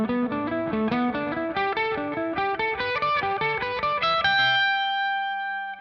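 Distorted electric guitar plays fast pentatonic scale runs in steady picked notes, ending on a sustained ringing note, close and loud with effects and a touch of reverb.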